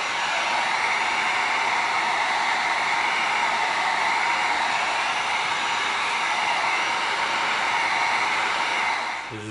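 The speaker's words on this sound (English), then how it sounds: "Going to get our heat gun going." Close, loud heat gun running over EVA foam craft pieces, a steady rushing whoosh that holds for several seconds before switching off, with no voices.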